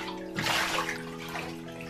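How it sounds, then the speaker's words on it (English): Bathtub water is poured and sloshed over a French bulldog to rinse out shampoo, a close splashing gush that swells early and then settles into quieter trickling. "Let's rinse off this first shampoo. But right now I'm just using the water from the tub."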